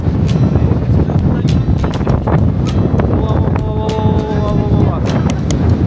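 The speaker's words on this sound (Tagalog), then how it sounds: "Sobrang lakas ng hangin." Loud, constant wind buffets the microphone with a roaring rush at Belém Tower in Lisbon, Portugal, and a voice talks faintly underneath.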